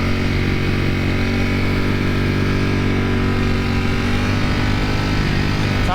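A Ducati Panigale motorcycle engine drones loud and steady while riding through twisty roads, a continuous close roar with constant pitch and strong wind buffeting, no voices.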